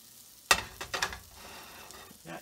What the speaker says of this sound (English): Put some mushrooms in there and saute them for 3 or 4 minutes.